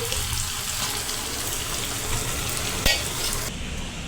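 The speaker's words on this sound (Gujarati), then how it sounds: "તેને હલાવીને આ રીતે મિક્સ કરી લેવાના બધા જ નાખીને।" Mashed potato stirred into a cooked tomato mixture in a pan for sandwich filling gives a steady, close hissing scrape with one sharp knock near the end. No one speaks.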